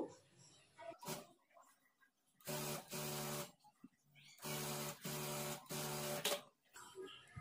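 Sewing machine top stitching the lining of a blouse, several bursts of rapid whirring stitching of about a second each separated by pauses, close and clear, with someone talking between them.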